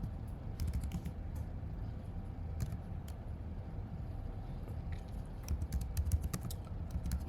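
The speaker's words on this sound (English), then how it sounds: "I'm just typing BMCC for the password." Fingers type on a computer keyboard while creating a user account and password in a terminal, giving a quick irregular run of soft clicks over a low background rumble.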